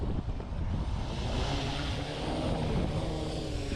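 Drone motors spin up after the aircraft is unlocked on a beach during surf fishing, giving a steady, fairly loud droning whir that holds with little change.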